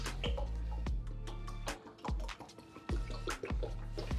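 Liquid drips and splashes in a home kitchen while chicken wings are cooked, several separate plops and gurgles at an irregular pace, close and fairly quiet.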